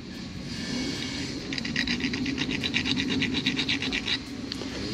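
A rigid, stone-like tool files a washer while hood lift struts are fitted on a Fiat Bravo, giving a rapid series of close, gritty scraping strokes over a steady background hiss.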